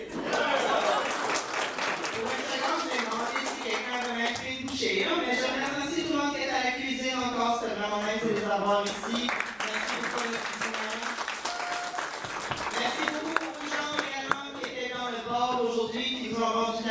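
Audience applause at a French-language awards night, a broad steady wash of clapping and crowd noise running throughout, fairly loud and dense with voices mixed in.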